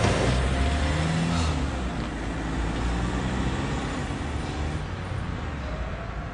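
A car engine runs and pulls away, a steady loud rumble with low engine tones that eases slightly as it goes, no talk over it.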